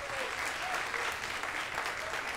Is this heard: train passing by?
no